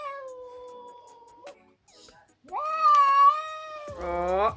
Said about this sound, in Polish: Słyszycie kota? Już się wścieka, że ten ma, ma jego miskę z jedzeniem.